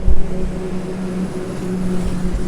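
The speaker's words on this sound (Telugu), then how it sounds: "ఎక్కడో ఒకటి వెళ్తుంది వెహికల్." A vehicle passing on a rural road in the Uttar Pradesh heartland, a low engine rumble that swells and fades over a couple of seconds with no talk.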